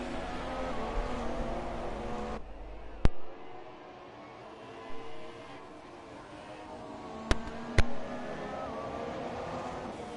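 Race cars at the Austrian Grand Prix in the racing game F1 2017, a steady engine drone with harmonic whine sustained across the clip, a few sharp clicks cutting in, and no talk over it.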